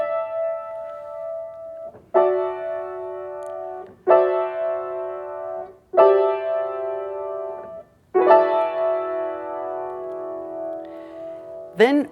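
Orchestral chords built entirely of stacked fifths from John Adams' Short Ride in a Fast Machine, played as a series of sustained, evenly spaced harmonic blocks, each sharply attacked and held for roughly two seconds, with a brief higher flourish at the end.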